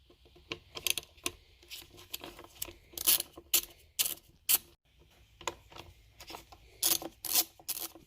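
Torx TP25 screws being loosened with a bit from an Echo SRM2620 string trimmer: close, dry ratcheting clicks and scraping bursts in short uneven clusters with quiet gaps, no talking.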